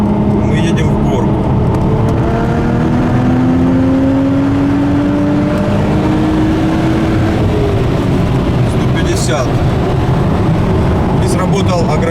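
A 420 hp Audi S4 B5 with a diesel-type gearbox pulls hard uphill in third gear at about 100 km/h. The engine is loud and steady, and its strained tone climbs through the whole stretch.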